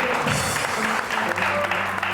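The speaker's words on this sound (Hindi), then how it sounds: "साजिद, यासिर, साजिद, वकास के लिए बहुत सारी तालियां" A studio audience on a Pakistani entertainment show applauds, a steady wash of clapping filling the whole moment with a faint voice or tones underneath.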